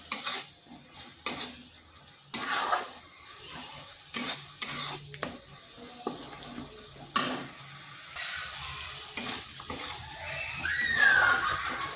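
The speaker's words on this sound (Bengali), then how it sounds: "এবার বেশ ভালো করে একটু সময় ধরে মশলাটাকে কষে নিতে হবে" Ground coriander and Kashmiri chili powder fry in oil in a kadai, with a steady sizzle and repeated scraping stirs of a spoon against the pan, close and moderately loud, no talking.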